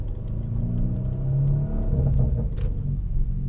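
Hyundai Veloster with a 3-inch straight-piped, catless exhaust, injected with meth, rumbles deep and loud at low revs, a steady throaty drone with slight swelling as it cruises.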